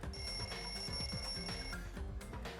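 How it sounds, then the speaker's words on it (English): Wall clock alarm in a lounge in the video game Danganronpa 2 ringing with a rapid metallic bell trill and a sustained high tone, fairly faint and continuous, the tone cutting off before the ringing ends. "The lounge's wall clock alarm started ringing at 5:30."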